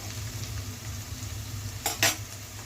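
Carrots and beans frying in a pan give a soft, steady sizzle close by, then two quick scrapes or clinks of a spoon against the pan near the end.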